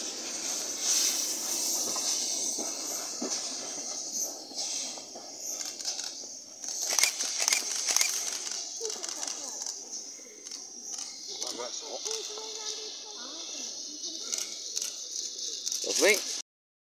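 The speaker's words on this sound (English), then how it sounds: "Here's 7714 running back to train." Steam locomotive 7714 runs back to its train with bursts of hissing steam and clanking, rising and falling through the clip, with quiet voices mixed in.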